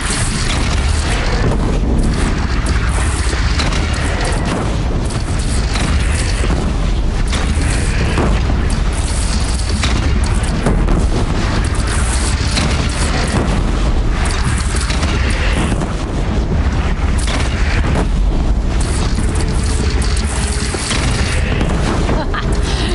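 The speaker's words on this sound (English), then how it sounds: "They only have one cannon!" Cannon fire in the Horizon Zero Dawn video game, a loud continuous barrage of booming blasts and rumble over a bandit clan battle, with game voices mixed in.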